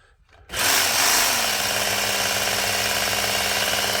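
A Work Sharp Ken Onion knife sharpener starts up and its belt runs at high speed, a steady, loud whirring drone with motor hum that follows a brief quiet moment and carries on unbroken.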